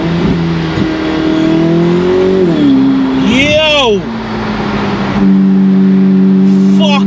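A sports car engine revving and accelerating, a loud close roar that climbs in pitch, drops back and rises again with gear changes, with a brief spoken exclamation from inside.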